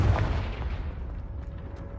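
A Confringo blasting spell going off in the Hogwarts Legacy video game: one low, booming burst at the start that decays into a rumbling tail over about two seconds, with no talk over it.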